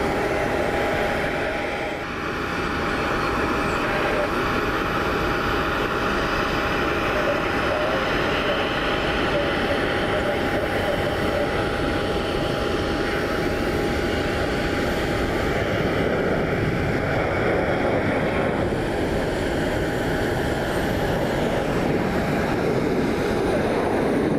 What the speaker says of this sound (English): UPS 5442, that's our 767-300 out of Louisville. Rolling out on runway 6 left.